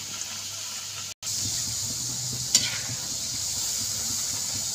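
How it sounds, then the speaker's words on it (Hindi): Saloni snacks frying in oil in a pan while being stirred and turned, a steady loud sizzle with soft scraping strokes of the spoon and one brief break in the sound. "हम सलोनी को उलट पलट कर चलाते रहेंगे"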